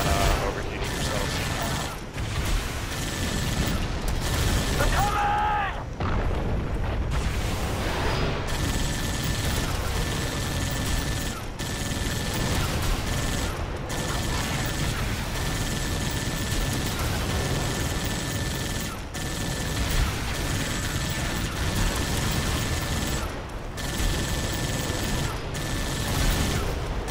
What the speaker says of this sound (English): just take this one turret, and we're just gonna mow down enemies pretty much non-stop